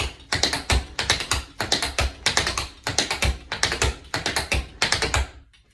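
Tap shoes strike the floor in rapid four-beat alternating cramp rolls, repeated in a steady rhythm, crisp and close.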